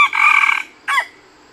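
A decoy jungle fowl used for luring wild birds crows close and loud in one short strained call, followed after a brief pause by a second clipped squawk, with no one talking.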